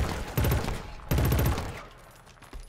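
Automatic gunfire from the Killzone Shadow Fall online multiplayer game comes in two loud, rapid bursts with a gap between them, then fades into quieter background combat.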